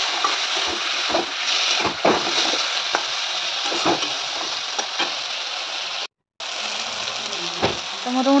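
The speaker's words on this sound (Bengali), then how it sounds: "এটাকে এবার খুব সুন্দর করে নাড়াচাড়া করে জল দিয়ে কষাতে হবে যতক্ষণ না পর্যন্ত তেল ছাড়ছে" Spice paste for a rohu fish curry with eggplant and potato stirred and frying with water in a pan, a steady close sizzle broken by scraping stirs, with a brief silent gap near the end.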